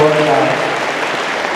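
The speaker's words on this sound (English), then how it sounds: "join me in a huge round of applause for appreciation for her" Audience applause at a Mannion Middle School 8th grade ceremony, a loud, steady wash of clapping from a crowd that holds at an even level throughout, with a trace of a voice fading out at the very start.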